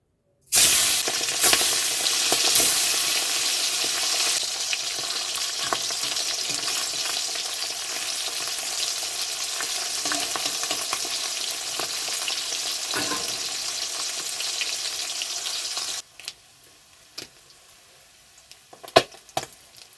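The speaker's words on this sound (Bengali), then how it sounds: "তেল গরম হয়ে গেছে, দিয়ে দেবো মাছ।" Pabda fish frying in hot oil: an intense, close sizzle that bursts in at once and stays loud with spitting crackles, then drops to faint scattered pops near the end.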